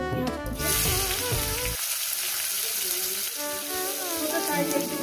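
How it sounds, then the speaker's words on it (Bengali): Chopped onion frying in hot oil with cumin seeds for a spicy rohu fish curry, a steady loud sizzle running throughout after a burst of louder clatter at the start. "এবার পেঁয়াজটাকে ভেজে নেবো"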